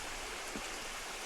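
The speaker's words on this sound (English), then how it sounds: "Waterfall." Rushing water from the Døndalen waterfall among rocks, a dense broadband roar filling the short moment, loud and steady, with no voices.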